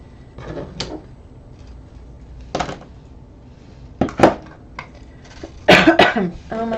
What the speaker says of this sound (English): I'm going to be coughing a little bit.